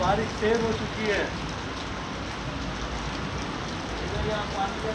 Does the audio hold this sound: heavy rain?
yes